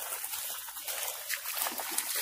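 Dogs splash and wade through creek water, giving a close, continuous sloshing and trickling with small uneven bursts of spray.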